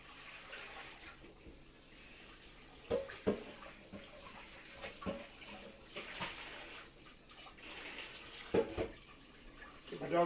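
A kitchen tap runs water into a dog's water bowl, a steady splashing wash with occasional louder clunks and knocks, fairly close and without talk.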